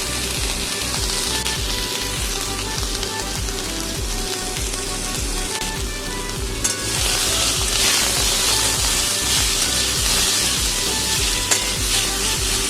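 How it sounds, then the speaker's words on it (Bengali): Potatoes and eggplant fry in a pan with salt and turmeric for a Bengali bathua greens chorchori, a dense continuous sizzle with rhythmic spatula stirring and scraping close by, growing slightly louder partway through, without speech. "সমস্ত ভালো করে আমি ভেজে নেব"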